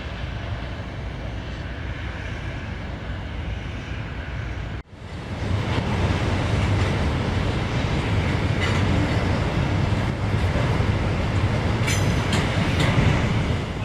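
A passenger train rumbles past in South Florida, loud and close, with a steady roar of wheels and rails that jumps sharply louder partway through as cars rush by.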